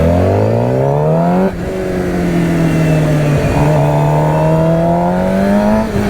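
A motorcycle engine winds up hard during a wheelie, its pitch climbing, dipping briefly at a gear change, then rising again into a strong, steady high rev, close and loud throughout.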